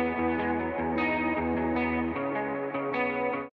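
Mellow guitar soaked in reverb and ambient effects, sustained and atmospheric, playing alone at steady level with soft swells throughout.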